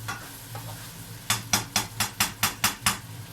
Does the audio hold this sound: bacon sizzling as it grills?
yes